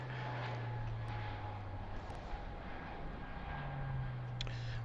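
A British Airways Airbus A320 at Heathrow bound for Glasgow, heard as a continuous moderate jet engine roar with a low steady drone and faint whine, somewhat distant.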